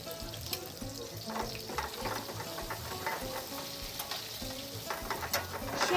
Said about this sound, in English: Shake the pan and cook until the garlic becomes golden brown.